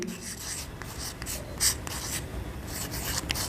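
Chalk or marker scratching across a classroom board in short strokes and taps, a series of quick dry scrapes with brief pauses, fairly close and clear with no speech.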